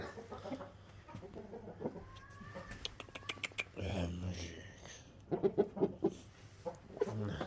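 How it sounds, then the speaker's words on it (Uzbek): An Aseel Shamo rooster, a heavy fighting breed, gives low clucks and short throaty calls close by, mixed with other farm sounds, while someone talks nearby. "Mana xo'roz bu."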